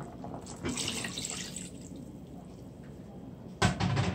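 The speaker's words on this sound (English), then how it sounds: "here I'm adding three cup of water to it" Three cups of water pour steadily into a cooking pot for a few seconds, a soft splashing flow that fades, then a brief louder gush near the end; no talking.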